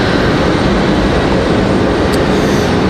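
Loud, steady broadband roar of a JetBlue airliner at Raleigh-Durham International Airport, a continuous jet rumble filling the whole stretch without a break.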